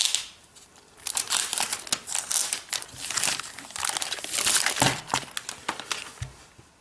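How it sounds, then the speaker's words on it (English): Protective plastic film crinkles and crackles as it is peeled off a Logitech Ultrathin keyboard cover for an iPad, coming in close, busy bursts of rustling that rise and fall over several seconds. "So let's go ahead and peel off this plastic."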